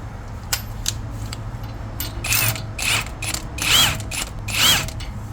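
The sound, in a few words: tool installing wheel studs, ratcheting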